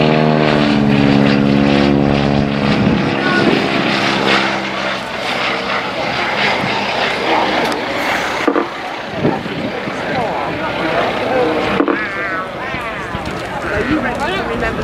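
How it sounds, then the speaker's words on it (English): A 1940s propeller aeroplane climbs and then dives steeply at around 120 miles an hour during a wingwalking display. Its loud engine roars and drones throughout, changing pitch with the manoeuvre, while an announcer talks over it. "Who needs an iPhone when we've got a 1940s aeroplane anyway?"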